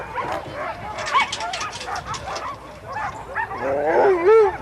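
Sled dogs bark, yip and whine in a lively, overlapping chorus, some voices close and loud, with rising howl-like whimpers near the end.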